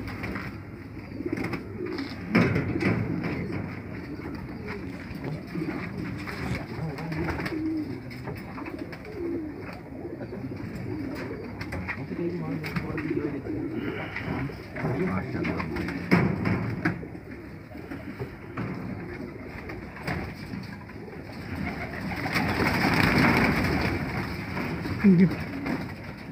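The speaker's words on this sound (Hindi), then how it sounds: "ये देखिए एक परवाजी कबूतर" Soft cooing of flying pigeons repeats through a steady bed of bird chatter and background voices, with occasional wing flutters nearby.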